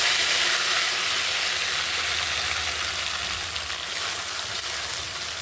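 Ground spice paste sizzling hard in hot oil for a chicken curry, a continuous loud frying hiss with faint crackle and occasional stirring, steady throughout with no voices.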